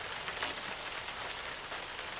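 Heavy rain pours down steadily, a dense broadband hiss of drops hitting a surface, loud and continuous with no voices, used as a storytime sound effect.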